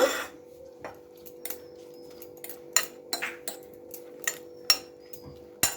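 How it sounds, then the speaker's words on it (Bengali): Prawns being stirred into a dish in a pan with a utensil, giving a scattering of light scraping clinks and taps over a steady low hum, close and moderately quiet, with no talk. "তো চিংড়িটা দিয়ে আবারও একটু আমি ভালোভাবে মিশিয়ে নেব"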